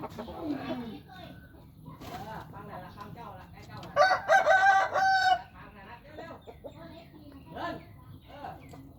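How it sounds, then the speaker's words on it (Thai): A young cockerel lets out a single loud, close crow in the middle, while someone talks in Thai before and after it, with some clucking and background noise. "ไก่ยังเป็นไก่หนุ่มนะครับ"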